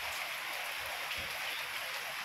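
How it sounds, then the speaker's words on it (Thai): Rain falls at night, a steady soft hiss of drops spread evenly throughout with faint low rumbling underneath, no voices. "ฝนตกค่ะเพื่อนๆ"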